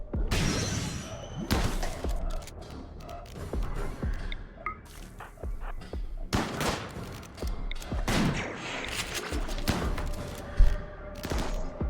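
Video game gunfire crackles in rapid bursts and single sharp shots, mixed with squishy impact sounds, moderately loud with irregular gaps between volleys.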